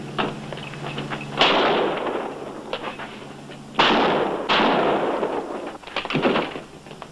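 Gunfire erupts in a police shootout during a stakeout, with sharp bursts of shots, loud and near, then further volleys and scattered cracks trailing off.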